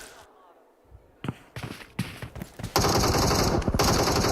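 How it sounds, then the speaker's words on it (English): Rapid bursts of gunfire in PUBG Mobile during an esports match, first scattered shots and then a loud sustained volley close up, under fast excited commentary. "Regnum Kaya still going strong with Loxy, hitting these shots here."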